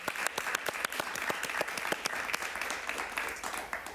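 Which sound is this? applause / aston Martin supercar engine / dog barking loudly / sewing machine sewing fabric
applause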